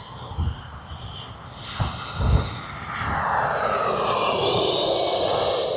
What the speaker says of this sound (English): what a great flying plane